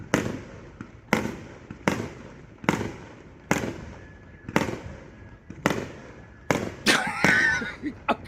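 Neighbors set off fireworks at 2 a.m. About eight sharp blasts ring out at nearly regular intervals, each dying into a short rumble. A crackling burst closes the sequence near the end.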